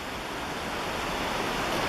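Rushing water of Niagara Falls, a steady, broadband roar with no breaks, heard from a distance and fairly soft, with no voices over it.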